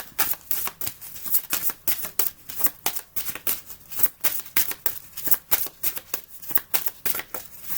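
Tarot cards are shuffled close by in quick, rhythmic riffles, each burst a short papery flutter repeating steadily roughly twice a second throughout, with no talk over them.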